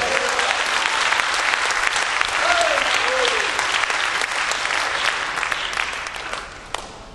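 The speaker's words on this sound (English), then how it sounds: "Clap your hands to the Lord Jesus Christ." A church congregation in the Philippines claps hands together in a steady, dense burst of applause that fades slightly near the end, with a voice briefly audible beneath it.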